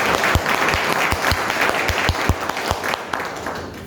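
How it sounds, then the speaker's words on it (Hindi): Audience clapping at a New Year celebration meeting, a group striking sharp, rhythmic claps in a steady beat over a bed of scattered applause, close and loud. "डबल ताली बजा दो, आज बहुत दिनों बाद देखा है।"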